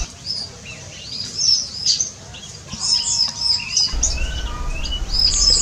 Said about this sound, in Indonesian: Di sini burung-burung gedenya tinggal 4 mungkin ya.